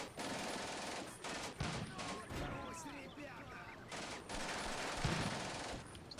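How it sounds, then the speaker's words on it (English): Anti-tank rifle shots crack out in the Combat Mission video game, a dense, rapid barrage of sharp reports stacked into continuous bursts of gunfire, with brief lulls between volleys. "Really good shots, these AT rifles."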